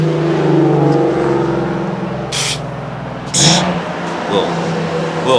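A third-generation Chevrolet Camaro IROC-Z engine rumbles nearby and revs up and down through a big exhaust, its low drone rising, with short hissing bursts over it.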